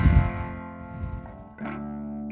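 Distorted electric guitar chords ring through a Fender 5F1 Champ clone tube amp with negative feedback switched off, sustained and buzzy with a slight chorus shimmer, then a new chord struck near the end.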